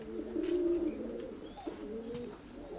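Pigeons coo steadily in a pigeon loft, a continuous low throaty murmuring with several overlapping birds, fairly close and clear with no talking.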